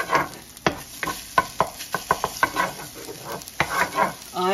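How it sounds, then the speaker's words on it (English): Onions, garlic and ginger frying in a pan for Singapore noodles, a steady close sizzle broken by repeated sharp scraping and stirring clicks, with no voices. "Okay, there go the onions. Onions, garlic, and ginger."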